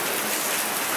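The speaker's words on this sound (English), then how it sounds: "It's just a little bit of rain that's decided to visit us." Steady rain pouring down outdoors in Holland, a dense, even hiss of drops on surfaces, loud and close, with no talking.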